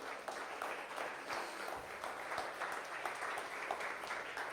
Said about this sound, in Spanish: Denle una ofrenda de palmas al Rey.